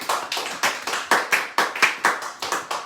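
A church congregation claps in a brisk, steady rhythm, about a dozen sharp, even hand claps in quick succession, close and fairly loud with no voices over them.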